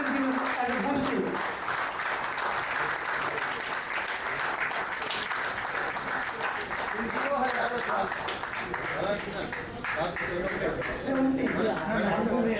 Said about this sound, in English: Please give him a big clap to all.